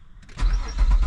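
A 2005 Nissan Maxima engine starts after crankshaft position sensor replacement: a brief starter whir, then the engine catches quickly and settles into a loud, close, rumbling idle.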